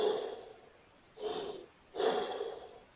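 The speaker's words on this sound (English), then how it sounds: "when I do the breathing practice, I listen to the sound with the breathing tube" Breathing through a breathing tube for wind instrument practice: three breaths, each a soft hollow airy rush lasting under a second, separated by brief pauses, close and fairly quiet.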